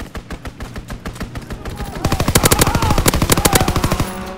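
Rapid automatic gunfire from a WWII fighter plane's strafing run in Call of Duty WWII, starting as a steady rattling burst and then swelling into a louder, denser volley of closely spaced shots.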